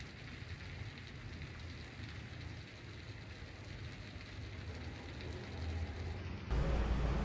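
Steady broadband hiss of heavy rain pouring down in a sheltered spot during a trip, continuous and fairly loud throughout, with no talking.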